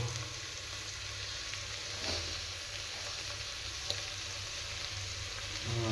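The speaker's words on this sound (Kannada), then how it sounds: "ಧನಿಯಾ ಪೌಡ್ರ್ ಹಾಕ್ಕೊಂಡು ಎಲ್ಲ ನೀಟಾಗಿ ಬಾಡಿಸ್ಕೊಳ್ಳೋಣ" Vegetables sautéing with coriander powder in a home kitchen pan, a steady close sizzle running throughout with a couple of brief stirring clatters.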